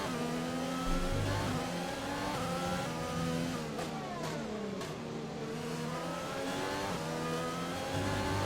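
Formula 1 race car engines in the F1 2020 game at the Dutch Grand Prix scream continuously at high revs, with pitch rising and falling through gear shifts as several cars run close together.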